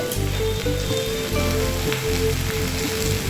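Potatoes, onion and cauliflower frying in oil for a simple winter vegetable fry, a loud steady sizzle with a dense crackling hiss that runs unbroken throughout, close up and without speech.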